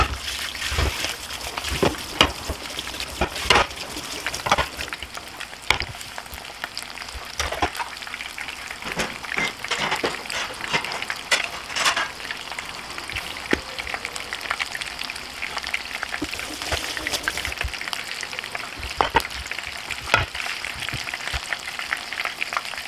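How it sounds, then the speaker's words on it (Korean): A chicken cutlet deep-frying in hot oil crackles and sizzles steadily and fairly close, with a dense stream of small pops throughout and no talking. "노릇노릇하게 튀겨진 치킨"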